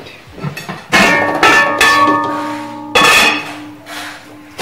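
A metal cooking pot handled while pistachio seed ingredients go in, giving loud ringing clanks and scrapes in three main bursts with a resonant metallic hum that lingers between them.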